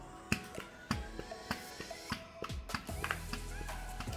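A hand squeezes an inflated latex balloon while twisting a balloon butterfly, producing a close, quiet series of squeaks, taps and rubbing creaks at an uneven rhythm.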